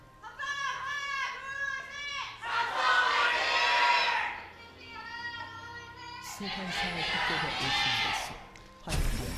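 Fans in an arena cheer and chant in unison at a League of Legends LCK Spring match between Samsung and MVP, swelling waves of crowd voices alternating with loud roars, ending with a sharp thump.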